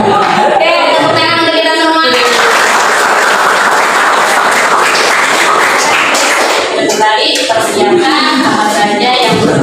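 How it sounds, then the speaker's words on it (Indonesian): Group applause in a teacher-training session on academic coaching swells into a burst of clapping from many hands for several seconds, with talking before and after it. "tepuk tangan untuk kita semua"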